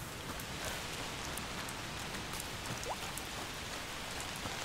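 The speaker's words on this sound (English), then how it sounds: "Yeah, it's raining." Rain in the video game A Plague Tale: Requiem, a steady dense hiss of falling drops and patter on surfaces, close and even throughout, with no voices.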